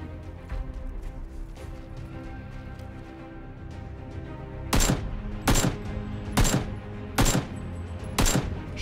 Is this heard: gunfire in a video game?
yes